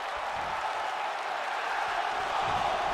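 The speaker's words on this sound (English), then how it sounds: "Crowd still well on the side of Cole. Chanting along, cheering along with him." Crowd noise from a WWE 2K19 wrestling match, a steady dense roar of cheering and chanting that fills the whole stretch and swells slightly near the end, with no clear talk on top.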